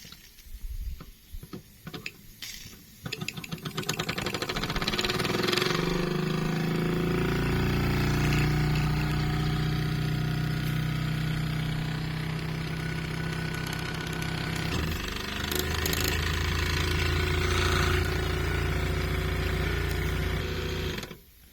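A small French Mamod toy steam wagon runs in reverse, giving a steady, close mechanical chuffing and rattling patter that holds for most of the stretch after a few faint knocks and hisses.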